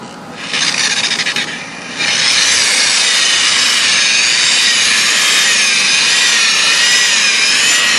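A machine polisher works car paint after wet sanding, a steady close rasping whir that starts softly and grows louder and fuller after a couple of seconds, then runs on continuously.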